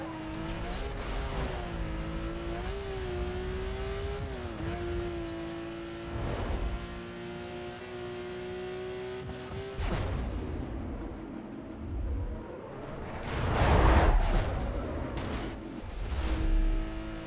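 A race car engine in Need for Speed Most Wanted revs and holds a high droning pitch, then the note breaks off and returns in surging bursts with rumbling, skidding noise.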